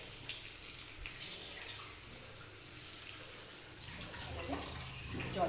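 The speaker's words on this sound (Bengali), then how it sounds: "জল অ্যাড করছি।" Water poured into a pan of lightly fried fish for a raw-mango mourola fish curry, a steady close running splash that rises slightly toward the end, with no talking.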